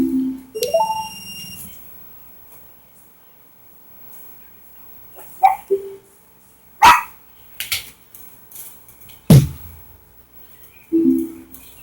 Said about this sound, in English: I can't control when our dogs bark